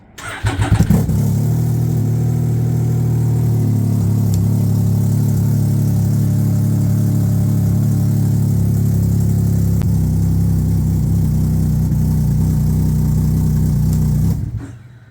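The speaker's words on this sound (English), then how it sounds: "we're going to hold the start button until it starts its starting sequence, and then we're going to let go." A Can-Am Ryker motorcycle engine cranks through its starting sequence, catches and settles into a steady, loud idle that carries on evenly for over ten seconds before cutting out, with no talking.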